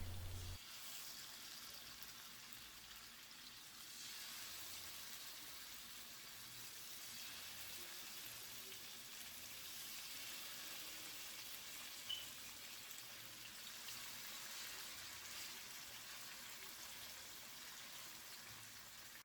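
Fish frying in medium-hot oil for a Kerala-style fish fry, giving a steady, moderately faint crackling hiss that continues evenly with no talking.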